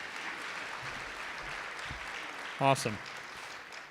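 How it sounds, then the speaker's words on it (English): An audience at a hospital leadership meeting keeps up a soft, steady round of applause in the background, and a single short spoken word cuts in near the end. "more round of applause"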